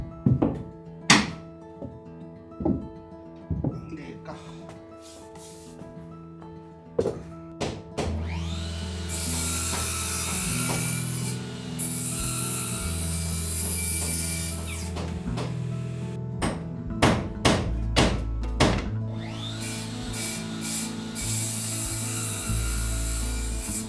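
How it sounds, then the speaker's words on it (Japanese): Wooden stair tread boards are cut to length for a straight staircase, one by one, with rasping saw strokes and sharp wooden knocks and thunks. A steady cutting stretch sits between louder clatters, with no talk. "ですから13枚一段一段をきちっとした長さに切っていきます"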